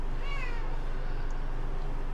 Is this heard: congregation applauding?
no